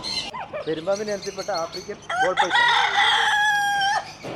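A rooster crows loudly and nearby, a long drawn-out call near the end, after a spell of clucking, chirping birds and other fowl calls.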